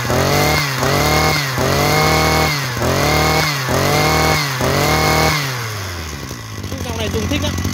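A Japanese brush cutter engine revs hard in five quick bursts, each rising sharply then falling, with a raspy chainsaw-like snarl up close before settling into a rougher, lower running sound.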